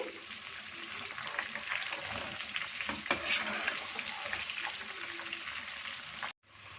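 Steady, dense sizzling of macaroni pakoras deep frying in hot oil, with crackling pops throughout, cutting off abruptly at the end.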